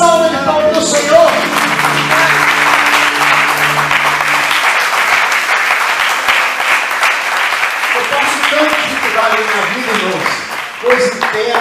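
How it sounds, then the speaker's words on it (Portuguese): A church congregation applauds during a Sunday worship service, sustained loud clapping over music and voices, with singing or speech rising again near the end. "E a salva de palmas do Senhor"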